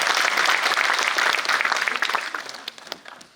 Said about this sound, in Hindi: ताली तेज बजाइए।